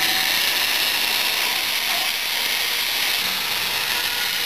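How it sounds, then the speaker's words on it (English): A bluestone rubbing against the ports of a revolver cylinder, a continuous close, hissy scraping and grinding heard alone with no talk. "we're going to chamfer the ports"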